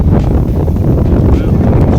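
Steady wind buffeting a microphone in Wayanad, Kerala, a loud continuous low rumble and roar throughout with no clear breaks.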